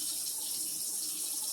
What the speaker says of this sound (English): I'm going to let my water run a minute in the background